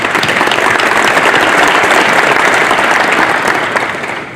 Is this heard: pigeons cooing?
no